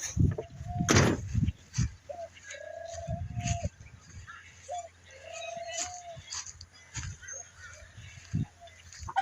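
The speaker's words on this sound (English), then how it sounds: "And we got chickens over here." Chickens at a family farm selling eggs and produce give scattered, drawn-out calls and squawks at moderate distance, with a sharp nearby bump and rustling in between, and long quiet gaps.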